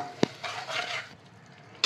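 Spices, salt and water being stirred in a pan while making fodnichi bhakari, a sharp scrape near the start, a soft swishing mix, and a brief clink at the end.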